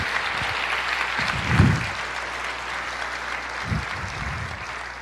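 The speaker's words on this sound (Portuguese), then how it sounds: "Aplauda o Senhor, libere esse júbilo para Jesus." A church congregation claps steadily in a broad wash of applause, with a few louder bursts, likely cheers or shouts, rising above it now and then.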